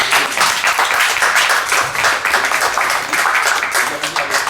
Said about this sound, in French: Alors, on va attendre Serval, on peut l'applaudir.